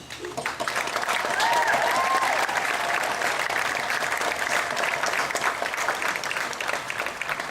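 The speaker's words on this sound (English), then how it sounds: "definitely deserves applause for that outstanding achievement" An audience applauds at a high school graduation ceremony for the class of 2015, a sustained full burst of clapping from a large crowd lasting several seconds.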